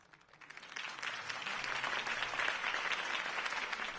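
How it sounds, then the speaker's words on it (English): A crowd applauds steadily, the clapping rising quickly from a soft start to a full, sustained roar of many hands. "If only Mr. Wayne, my campaign's largest backer, could have heard that applause"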